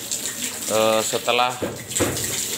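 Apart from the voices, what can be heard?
water splashed onto floor to clean swiftlet house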